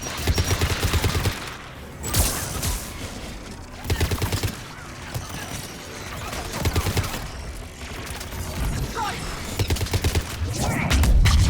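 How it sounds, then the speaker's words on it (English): Explosions and rapid gunfire fill a Mass Effect 3 battle against Geth, with bursts of shots and heavy thumps recurring throughout and a voice talking at times beneath the combat. "Yeah, explosion."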